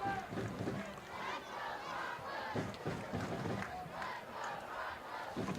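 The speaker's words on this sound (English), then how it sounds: "Crowd getting into it here" High school football crowd at the Spring Hill Activities Center cheering and chanting in rhythmic surges, a broad roar of many voices rising and falling, somewhat distant and fairly quiet.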